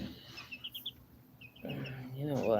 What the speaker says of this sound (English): It's Poncho, the little chicken.